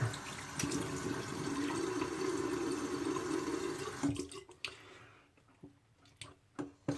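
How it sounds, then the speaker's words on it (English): A faucet runs steadily as soapy hands are rinsed at a sink during a wet shave, then the flow stops around the fourth second, leaving a few faint drips and small handling noises. "Rinse my hands off. I got soap on it."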